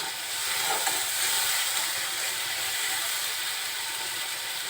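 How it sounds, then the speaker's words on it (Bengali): Spices sizzling and spattering in hot oil while being stir-fried for a Bengali mustard rohu fish curry, a steady dense hiss with crackling pops running throughout, close and loud with no talk. "এই সময় একটু সাবধানে কষাবেন, কেন মশলাটা তেলের মধ্যে দিলে অনেক ছিটকায়"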